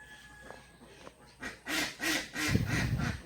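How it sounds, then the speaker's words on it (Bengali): Ducks at a rural home quack repeatedly in short bursts, starting faint and then growing loud and close, with several overlapping calls near the end and no talking. "এখানে হাঁস আছে।"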